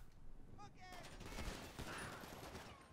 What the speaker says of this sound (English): I shot him in the ass cheek